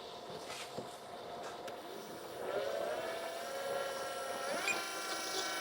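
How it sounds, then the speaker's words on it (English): A hydraulic oil pump on an Oliverhobby RC 9800 model runs with a faint, steady whine that rises in pitch and strength partway through, alone with no talking. "So start the pump."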